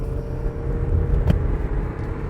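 A 2021 Audi A6 45 TDI quattro diesel engine drives under acceleration as a steady, dense low rumble, heard from inside the car with road and engine noise blended evenly and no talking.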